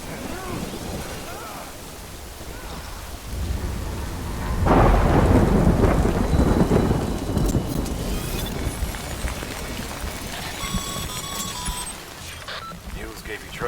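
Steady rain and rolling thunder in the Death Stranding Director's Cut video game, with heavy rainfall under a long, deep rumble that swells and then fades, while game voices talk over it.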